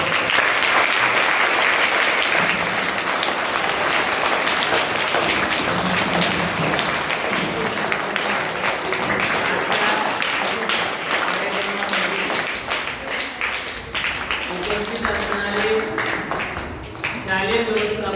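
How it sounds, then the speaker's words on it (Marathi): Audience applause welcomes doctors at a school health camp: loud, sustained clapping from a crowd that fills the whole stretch without a break, with faint voices mixed in. "साहेबांचं आपण टाळ्या वाजवून स्वागत करतो।"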